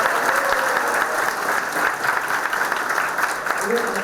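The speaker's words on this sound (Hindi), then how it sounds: "जोरदार तालियां इसके लिए" Sustained applause from an audience at an award ceremony honouring a NIMCET 2025 rank holder, steady and loud throughout with a faint voice mixed into the clapping.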